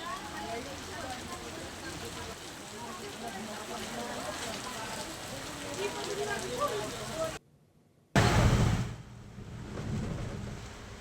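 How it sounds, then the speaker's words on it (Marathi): Unseasonal rain driven by stormy winds in parts of Washim district, Maharashtra, a dense continuous patter and rush that drops out briefly near the end, then resumes loudly. "वाशिम जिल्ह्याच्या काही भागात वादळी वाऱ्यासह पाऊस झाला"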